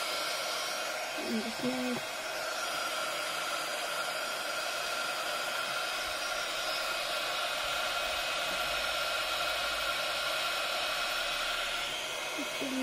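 Heat gun blowing steadily to soften glue under stuck-down brick slips, a loud continuous hissing roar filling the whole stretch, with a brief spoken phrase over it.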